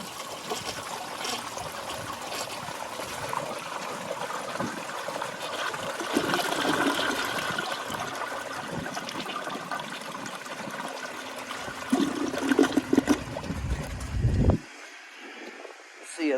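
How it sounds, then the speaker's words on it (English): A 1983 Kohler Wellworth Water Guard toilet flushing with an overfilled tank, rushing and gurgling water swelling and churning for over ten seconds before cutting off, then a faint trickle, with people talking over it. "Let's do an overfilled tank flush."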